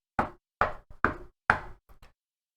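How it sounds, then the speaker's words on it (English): Someone knocks on a massive ten-foot double door: a close, loud sequence of sharp raps in an uneven rhythm, four strong knocks with a few lighter taps between, in otherwise silent surroundings. "you knock on the door"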